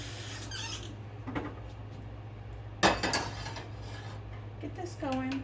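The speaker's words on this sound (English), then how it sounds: "We're going to take this pan and we are going to get some water into it" A kitchen pan clanks and squeaks as it is handled, followed by a burst of running tap water filling it, then further clinks and a rising squeal near the end, all close and moderately loud over a steady low hum.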